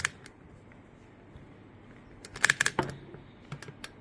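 Keys pressed on a FiiO KB1 keyboard give a few sharp clicks, a quick cluster in the middle followed by scattered single taps, close and clear over a quiet background.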